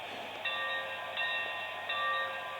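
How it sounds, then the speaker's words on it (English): A small model train locomotive bell rings repeatedly in an even, metallic ding pattern, moderately loud and alone. "That bell sounds excellent."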